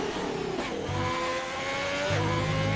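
Onboard a Ferrari Formula 1 car during qualifying in Russia, the engine whines loudly and close, its pitch sliding down and climbing again through shifts, with no voices.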